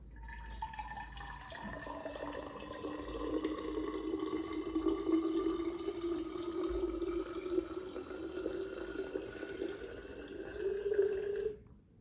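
Water pours steadily into a drinking vessel, the pitch rising continuously as it fills for about eleven seconds, then stopping abruptly, close and clear with no talking.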